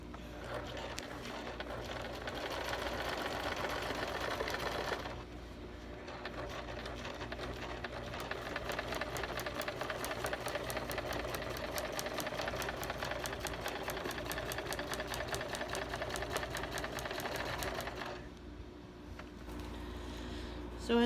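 Sewing machine stitching bulky insulation fabric for a custom window treatment: a steady mechanical whirring run that stops briefly twice, each time starting again at the same even pace.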